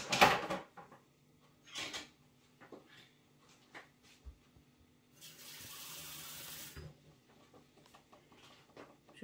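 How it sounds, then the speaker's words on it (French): Water poured from a tap into a pan of cooking onions, a short hissing splash of about a second and a half amid scattered kitchen knocks and clatter. "je mets juste un peu d'eau pour éviter que les oignons brûlent"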